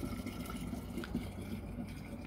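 A 5-litre plastic bottle fills from a street water dispenser, a steady close gurgling rush with faint voices in the background.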